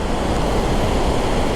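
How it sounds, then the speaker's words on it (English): The Kravice Waterfalls in Bosnia and Herzegovina pour with a loud, steady rushing roar of falling water, constant throughout with no speech. "these are Kravice Waterfalls"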